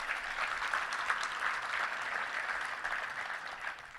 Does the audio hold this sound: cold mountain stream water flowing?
no